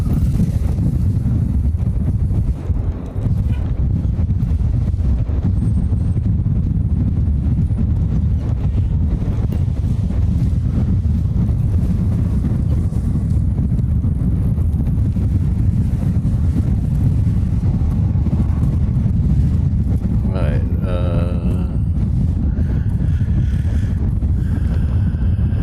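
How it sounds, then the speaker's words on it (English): Strong wind buffeting a microphone outdoors at an airport in Hawaii, a loud, constant low rumble filling the whole stretch with no pause. "Oh boy, this wind"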